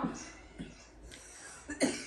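A mother coughs in several separate bursts spread across a couple of seconds, fairly quiet and close, with one harsher cough near the end.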